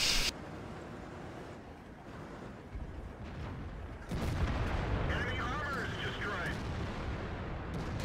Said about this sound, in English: So I'm just going to put shots in this 95 who, you know, could have killed me.